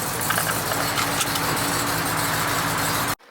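A Hellephant 426 crate engine with a big cam runs in a Ram TRX truck, a loud, close, lumpy idle with a rhythmic galloping lope that cuts off abruptly at the end.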